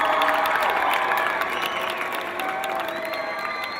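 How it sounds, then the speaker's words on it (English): An audience applauds at a speech about school choice by Ohio's lieutenant governor, a dense, steady round of clapping with some cheering that holds at full strength for several seconds and eases slightly toward the end. "he deserves a round of applause."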